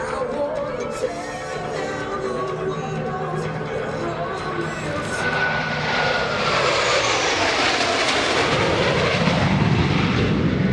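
Blue Angels F-18 jets in Diamond formation making a flyby at the NAS Oceana airshow, a loud swelling jet roar that rises and sweeps past with descending whine, while an announcer talks over it.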